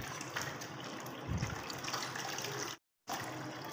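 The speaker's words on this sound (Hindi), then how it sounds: "और अब ऊपर से हम थोड़ा थोड़ा ठंडा पानी डाल देंगे" Cold water poured in small amounts over cooked sabudana (tapioca pearls) in a kitchen, a steady close gush of liquid with a brief cut to silence near the end.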